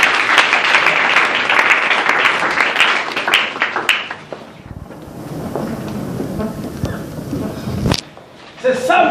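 A church congregation at a Bible seminar in Luanda, Angola, bursts into loud, dense applause for about four seconds; the clapping then drops away and a voice talks over quieter room noise.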